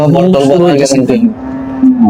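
A cow at a cattle market gives a loud, close, drawn-out moo with a strong tonal bellow that sustains and then tails off, while market chatter sits underneath.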